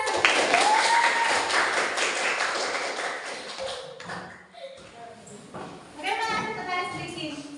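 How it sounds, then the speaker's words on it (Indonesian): Applause in a school classroom, children clapping loudly together in a dense burst that gradually thins out, followed by kids' voices and chatter. "Oke, tepuk tangan untuk kita semua."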